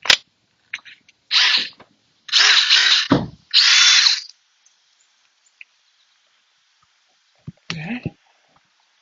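A power drill, not an impact driver, bores into a lock in three loud, close bursts of whining grind separated by short pauses, with a brief faint sound near the end.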